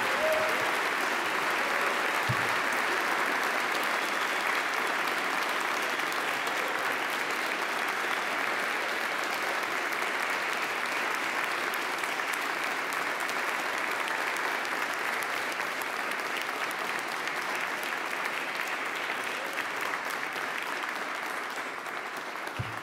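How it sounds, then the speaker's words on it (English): An honors day ceremony audience gives prize recipients a sustained round of applause, dense and steady clapping from a large crowd lasting over twenty seconds, loud and even throughout before easing slightly at the end. "we can have a round of applause for all of the prize recipients"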